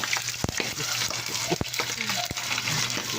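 Food frying in a little hot cooking oil in a pan, with constant crackling sizzle, scattered sharp pops and occasional clanks of stirring utensils, close and steady.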